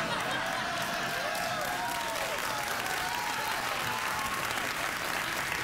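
A late-night talk show studio audience breaks into steady applause with some cheering, while a faint voice or whistle-like tone drifts over the clapping.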